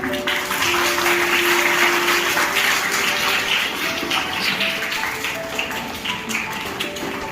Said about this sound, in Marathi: टाळ्या खूप कमी पडतात.